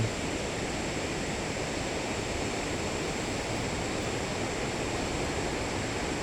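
The Khudi river rushes along below a village path, a continuous broadband roar of flowing water that stays even and fairly loud from start to finish with no voices.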